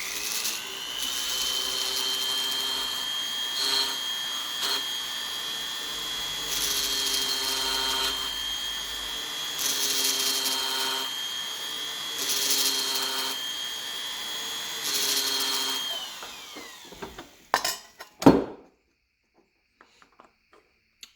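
A Foredom flex-shaft tool with a variable-speed motor, held at about half pedal, cuts checkering. A high, steady whine swells in regular bursts every couple of seconds, then stops and is followed by a few handling clunks.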